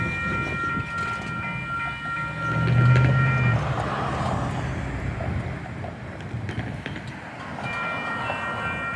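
Union Pacific 6256, an inbound manifest freight train, rolls past a crossing at 1st Street in Tempe on a windy day, a steady loud rumble of wheels and cars with rattling clatter and distant bell tones throughout.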